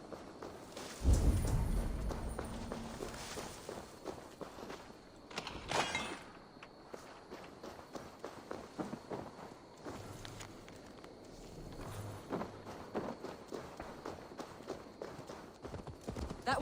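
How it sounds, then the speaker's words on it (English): Horse hooves clip-clop on the ground in the Viking-era game Assassin's Creed Valhalla, a steady run of hoofbeats at moderate distance with a heavier thump early on and faint background ambience. "to deliver Magni his horse."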